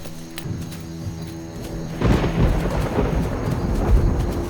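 Thunder rumbles low over a forest and then swells into a louder, sustained roll in a film scene, with a faint hiss of rain beginning underneath.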